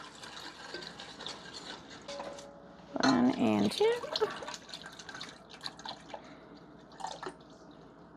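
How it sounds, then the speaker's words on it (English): Evaporated milk pours into a cooking pot in a short gurgling, trickling burst in the middle, with a voice counting briefly and soft kitchen noises around it. "let's go ahead and add in our evaporated milk"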